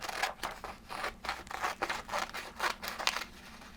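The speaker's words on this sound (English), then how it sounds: "Cut off this extra piece here at the end." Scissors snip through leftover paper while a paper snowflake is made, a quiet, close run of about a dozen quick, rhythmic cuts.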